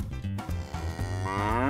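A cow gives a single long, deep moo that swells and rises in pitch, loud and near, with no talking.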